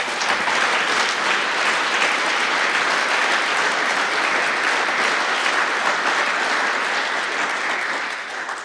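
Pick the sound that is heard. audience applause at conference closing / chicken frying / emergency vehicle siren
audience applause at conference closing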